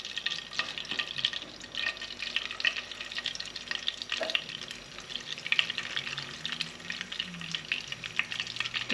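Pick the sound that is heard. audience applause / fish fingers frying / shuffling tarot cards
fish fingers frying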